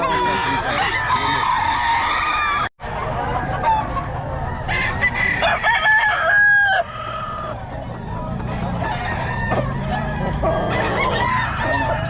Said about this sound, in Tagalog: kompleto mga manok na ito ni Boss Rod eh.